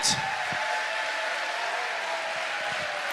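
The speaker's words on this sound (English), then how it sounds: "one last huge round of applause for all the medalists" Applause for medalists at a Swordfish longsword tournament, a steady, dense wash of crowd clapping filling the hall, even and sustained throughout with a brief louder start.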